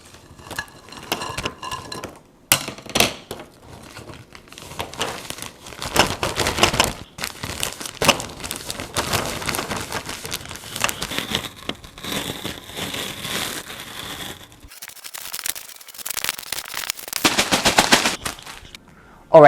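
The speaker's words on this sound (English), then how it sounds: "we are going to smash our Oreos" Oreo cookies in a plastic bag smashed with a rolling pin for homemade ice cream, heard as a run of sharp, irregular whacks and crunchy crinkling, close and fairly loud, with short pauses between bursts and no speech.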